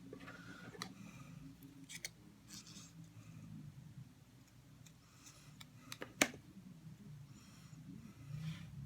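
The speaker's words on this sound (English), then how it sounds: "I'm just cutting from the inside of the ear, just a little bit, and then I'll cut that off." Small scissors snip fine pieces from white cardstock, trimming the inside of a stamped fox ear: soft, sparse close-up cuts and rustles with one sharp snip, quiet and without speech.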